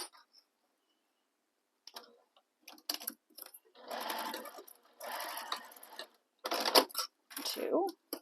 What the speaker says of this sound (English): Then we're going to baste these short edges together.